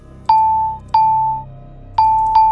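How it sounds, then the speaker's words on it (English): A bell in the Mystery Case Files: Ravenhearst puzzle game strikes four clear, loud dings with sustained ringing tails over a low background hum, the last two close together. "That sounds like a bell."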